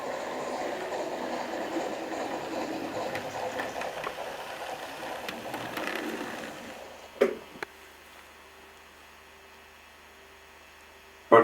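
A cartoon tank engine pulls a train along a railway, giving a steady mid-level rumble of rolling wagons for about seven seconds, then near-quiet with a low hum, two sharp clanks and a final loud bang.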